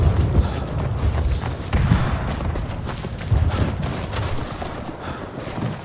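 Battlefield din in the First World War shooter Verdun, with repeated heavy thumps and booms of a mortar shell and other explosions over continuous rumbling gunfire, loud and close throughout.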